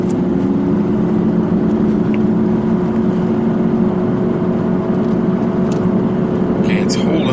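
A 2017 Ford Super Duty truck towing a heavy trailer engine-brakes down a mountain grade in the Rockies, a steady droning engine note held at constant revs beneath cabin talk.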